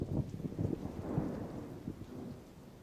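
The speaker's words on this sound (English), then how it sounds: "Throughout the summer, electrical storms roll across the desert, often shedding only drops of water." Distant thunder from a desert summer storm rumbles low and long beneath a steady patter of rain.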